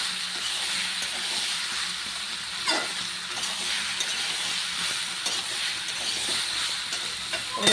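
Potatoes and boiled peas stirred and frying in a pan, a steady close sizzle and hiss with scattered scraping stir sounds throughout, no voices.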